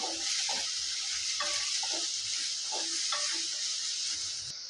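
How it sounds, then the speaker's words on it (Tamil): Green chili and curry leaves sauté in a pan with a continuous bright sizzle and a few soft stirring knocks, close and even, with no talking. "ஒரு பச்சை மிளகா நீல வாக்கில் தீர்னது கொஞ்சம் கருவேப்பில் இப்போ நம்ம இதை வதக்கி எடுத்துக்கலாம்"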